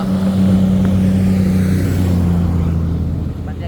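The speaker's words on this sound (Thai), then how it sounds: "รถสิบล้อ" A ten-wheeler truck rumbles past on a wide two-lane road through hills, a loud low engine drone that holds steady and then fades, heard from a moving motorbike.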